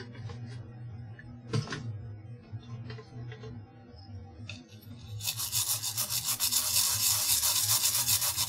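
A paper towel soaked in gasoline rubs over an object to clean it, with faint scrapes and taps at first, then a close, steady, rhythmic rubbing that swells in the second half.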